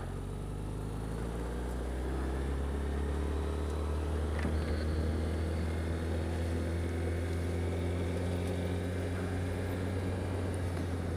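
A Suzuki Hayabusa motorcycle engine drones steadily as the bike pulls in low gears, with a deep rumble rising gradually in pitch under constant wind rush, heard from the rider's position without speech.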